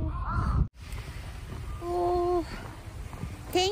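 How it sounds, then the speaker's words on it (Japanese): Crows cawing outdoors, a couple of loud harsh caws near the middle of the clip, preceded by someone speaking briefly. "カラスさん、カラス元気ですね。"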